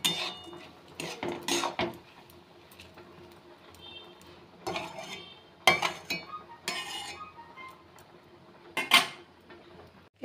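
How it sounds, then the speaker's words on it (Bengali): A utensil scrapes and clinks against a pan while sago is stirred and fried, with intermittent metallic knocks and scrapes in short bursts separated by quiet gaps. "এটা একটু নাড়াচাড়া করে ভেজে নিলাম"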